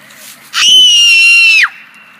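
A person lets out one loud, sustained high-pitched scream lasting about a second, in a screaming contest on an outdoor game show, with quiet before and after.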